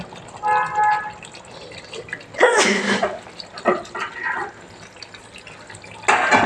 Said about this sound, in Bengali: এবার হালকা কুসুম গরম জল দিয়ে দেব।